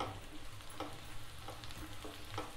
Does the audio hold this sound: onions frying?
yes